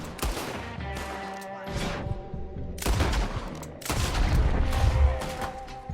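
Gunfire rattles through a Red Dead Redemption shootout in repeated loud bursts and volleys, separated by short lulls, with rumbling booms and faint background voices in the mix.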